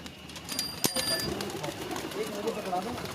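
Landay-breed pigeons on a rooftop give soft cooing calls, faint and intermittent beneath someone talking, with a sharp click near the start.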